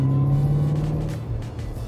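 A BMW 7 Series with a newly fitted exhaust, still cold, heard from outside the car: a steady, deep droning rumble that holds loud and even throughout, with no voices.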